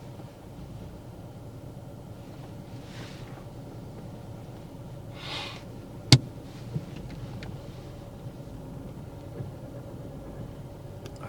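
A learner's car reverses out of a parking bay in an empty lot, its engine a quiet, steady hum with one sharp click partway through and a few faint taps after.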